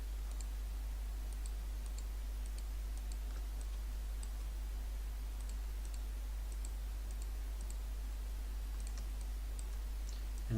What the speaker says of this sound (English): holding down the shift key, left clicking as we go around